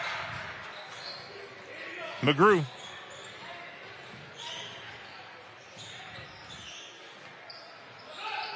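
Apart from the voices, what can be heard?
basketball bouncing during a high school game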